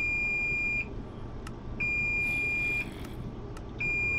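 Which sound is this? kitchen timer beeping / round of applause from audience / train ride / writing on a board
kitchen timer beeping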